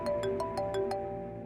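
A phone ringtone plays six bright, evenly spaced electronic tones in a quick repeating pattern, loud and close.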